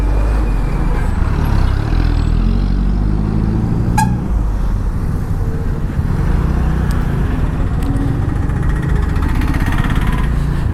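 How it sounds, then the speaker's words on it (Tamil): Heavy road traffic on the Ooty road, many of the travellers bikers: a steady, loud roar of engines passing close by, with a horn blast and a few shorter toots cutting through, and no talk. "செம்ம டிராஃபிக்காக இருக்க மாட்டிருக்கு."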